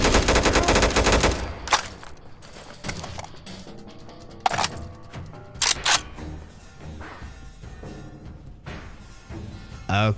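Gunfire from a weapon in Fallout 4 comes in a loud, rapid automatic burst at the start, followed by several sharp single cracks and short bursts spread over the rest, each with a ringing tail.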